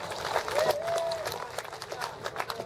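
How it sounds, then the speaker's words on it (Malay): An audience at a public community gathering claps for a speaker, a moderately quiet burst of scattered hand claps with a brief voice or whistle-like tone rising over it early on. "Satu tepukan kepada beliau."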